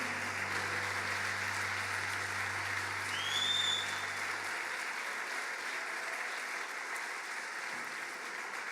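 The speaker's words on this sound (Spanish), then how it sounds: "le entregamos el mejor aplauso al que nos libertó" A large church congress audience applauds in a sustained, dense wash of clapping that stays loud and even throughout, with a brief whistle cutting through partway.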